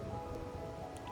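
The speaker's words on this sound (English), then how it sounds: "Just waiting out the rain." Steady rain falls in a video game, a dense continuous patter on surfaces at even loudness with no speech over it.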